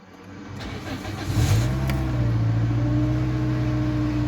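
A car engine starts and runs after clutch actuator replacement and learning, rising briefly then settling into a steady, close idle hum with no talking.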